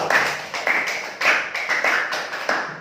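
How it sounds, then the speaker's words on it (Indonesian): Classmates applaud a student group after its presentation in a classroom teaching session, sounding as a few sharp rhythmic bursts of clapping spaced about half a second apart, fairly close and with no talk over them. "Tepuk tangan untuk kelompok 1."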